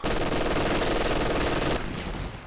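Loud sustained gunfire in a video game, including sniper shots, a rapid unbroken rattle for under two seconds that cuts off abruptly and leaves a fading tail.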